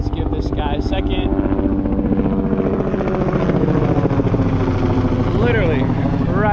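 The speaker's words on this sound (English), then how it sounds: "there's a helicopter flying right above me" A helicopter thumps loudly and steadily overhead with a rapid rotor beat, while a person talks underneath and a few sharp clicks come early on.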